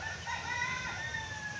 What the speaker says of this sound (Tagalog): Ang malaking manok ko.